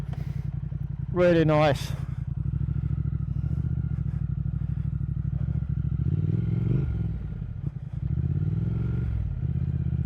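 A 2020 Triumph Speed Twin motorcycle fitted with a Vance & Hines exhaust cranks, fires and settles into a loud, close, throbbing idle with a couple of blips, while someone speaks briefly.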